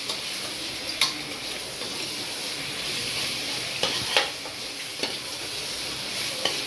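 Tomatoes fry in a pan for egg biryani with a soft, constant sizzle, while a spoon stirs and knocks against the pan a few times, sounding close and fairly quiet.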